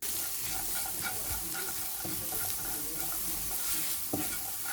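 Diced onions frying in hot fat in a pan, a steady close sizzle with occasional scraping knocks of a utensil stirring them.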